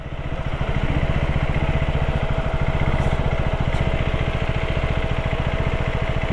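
Motorcycle engine running steadily throughout on a ride near Sasaram in Bihar, with a continuous loud low throbbing drone that holds an even level with no pauses and no talk.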